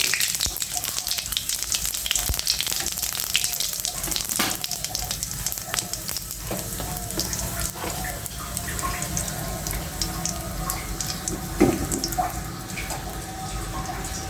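A bay leaf, cinnamon pieces and whole cumin sizzle in hot oil in a wok, a dense continuous crackle with scattered pops, close and steady with no talk.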